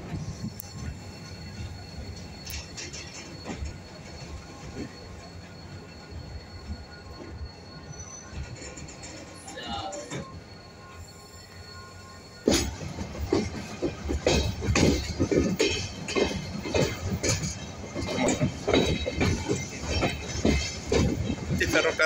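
Haedo–Temperley passenger train running on rails in Argentina, quiet rolling at first, then a sudden loud surge of rattling wheels, clanking cars and squeals that continues close by to the end; a voice speaks briefly.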